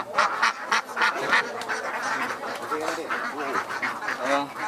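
Ducks quacking at a village duck farm, a dense chorus of overlapping calls running throughout, with people talking over the flock.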